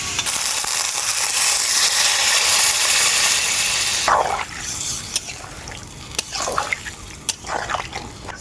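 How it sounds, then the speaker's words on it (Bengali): Water pours steadily into a pan of cooking vegetables for neem shukto, a loud close gush for a few seconds, then sizzling, scattered drips and clinks as the pour stops. "এখন এর মধ্যে দিয়ে দেবো পরিমাণ মতো জল"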